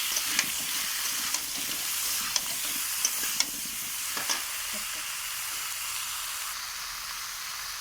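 Spices with turmeric and chili powder sautéed in a pan for a rohu fish curry, a steady close sizzle broken by sharp clicks of a spoon stirring against the pan, with no talk.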